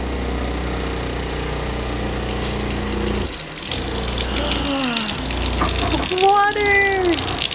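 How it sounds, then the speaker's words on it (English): A water pump switches on to pressurize the plumbing in an Airstream trailer, its steady hum running under a rush of flowing water with some gurgling and sputtering toward the end. "So I'm going to turn the pump on, pressurize the system, and see what happens."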